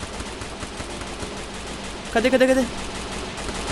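Gunfire in the video game Free Fire, a quick rapid burst of several shots ringing out over faint background game sound, with a player speaking briefly.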